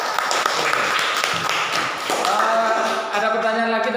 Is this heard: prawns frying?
no